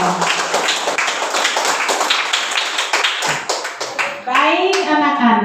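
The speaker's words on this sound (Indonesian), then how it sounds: "Kita sekali lagi kita tepuk tangan untuk semua" Children in a classroom clap for every group, quick rhythmic hand claps near the listener, with children's voices rising over the clapping toward the end.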